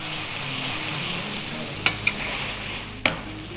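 Masala mashed and fried in a pan: a steady close sizzle with scraping stirring, punctuated by a few sharp knocks of a utensil against the pan, no voices.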